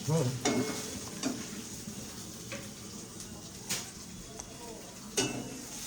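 Food sizzles in a pan on a home stove while a utensil stirs it, with scraping strokes and occasional clinks of metal against the pan over a steady frying hiss.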